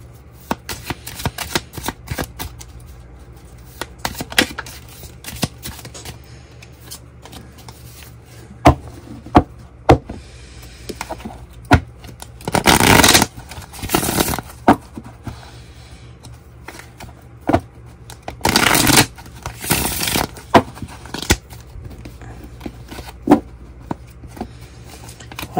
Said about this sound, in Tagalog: Balasahin muna natin.